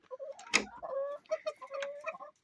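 Soft clucks and short calls from a rooster and a few chickens, a brief sharp knock near the start, quiet and close with gaps between sounds.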